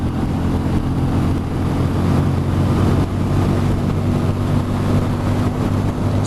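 A 2020 Benelli 400 Imperiale motorcycle accelerating hard up a motorway, its engine a steady droning hum buried under constant heavy wind rush, with no talking.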